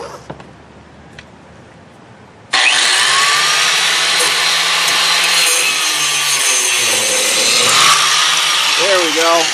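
A power tool abruptly starts after a quiet moment and cuts through a rear strut bolt on a 2005 Toyota Highlander with 174K miles, a loud, harsh, continuous grinding whine with shifting pitch as it bites into the metal.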